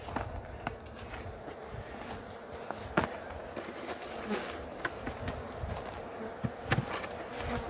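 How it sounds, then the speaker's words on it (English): Honeybees hum in a dense, steady drone close by inside a heavy wooden hive box, with occasional soft knocks and bumps against wood. "That's a good looking box of bees."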